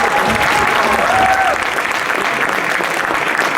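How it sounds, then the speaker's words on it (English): Audience applause fills a hall after a performance, a loud, dense patter of many hands clapping steadily throughout, with a faint tone briefly audible early on. "Can we have another round of applause?"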